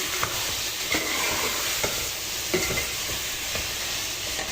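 Vegetables and tomato frying in a pan, with a steady sizzle running throughout and the scrape and clack of a spoon stirring at a slow, regular pace, close by.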